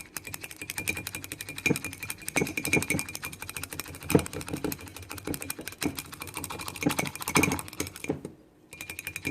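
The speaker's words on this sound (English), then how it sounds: "And you whisk away." Bamboo whisk beating matcha tea to a froth in a bowl, a rapid, steady run of close, light clattering and swishing strokes with brief pauses, no talk.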